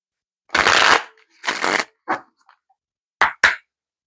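A deck of Isis Oracle cards is shuffled in five close riffles: two long ones, a short one, then two quick ones in a row, with silence between.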